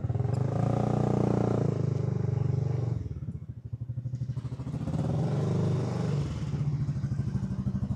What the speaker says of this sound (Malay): Ni motor rasanya.